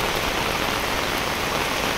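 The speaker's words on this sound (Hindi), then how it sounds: "तो फ़िलहाल देख सकते हैं ख़राब से बारिश दे रहा है।" Heavy rain pours down at a market, a constant dense hiss of drops striking surfaces with no letup and no voices.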